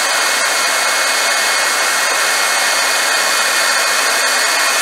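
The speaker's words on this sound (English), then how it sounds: "we're going to use the heat gun to melt the embossing powder" A heat gun blows continuously while melting embossing powder for a craft project, a loud, steady, close-up rushing whoosh that holds the same level without a break.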